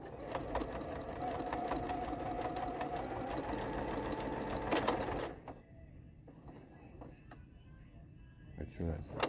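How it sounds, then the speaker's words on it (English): Home sewing machine stitching two rows on home decor fabric, a steady close mechanical whir with fast needle chatter that stops after about five seconds, leaving light handling noises while someone talks over it. "and you can do two rows of stitching"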